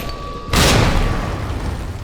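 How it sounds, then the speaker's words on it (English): A grenade explodes in the Resident Evil 2 Remake game, a sudden loud broadband boom that fades into a rumbling decay over about a second and a half. "this is why you want the grenade"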